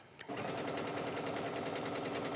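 A sewing machine stitching knit fabric for a faux wrap dress, starting after a brief pause and then running at a steady, fast, continuous whir up close.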